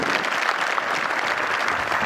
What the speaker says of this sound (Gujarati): એક વખત બધા માટે તાળીઓ